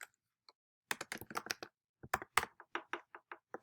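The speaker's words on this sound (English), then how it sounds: "I'm hitting my tab button" Keys clack on a computer keyboard as someone types a spreadsheet heading in Excel and hits the tab key, a fast burst of close, crisp clicks after one lone tap, with short pauses between groups.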